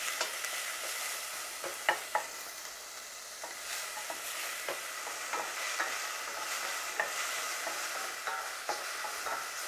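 Semi-thin sliced onions sizzling in a pan during a barbecue beef sandwich cook, with a soft steady frying hiss and intermittent scrapes and taps of stirring, close up, no voices.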